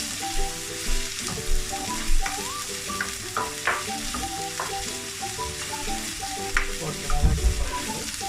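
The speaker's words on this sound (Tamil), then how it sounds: "இதுக்குள்ள வெங்காயம் போடுவேன். இது ஒரு மீடியம் சைஸ் வெங்காயம் வெட்டி வச்சுருக்கேன்." A chopped medium-sized onion sizzles and crackles in a hot pan, with a steady frying hiss broken by soft stirring knocks and scrapes heard up close.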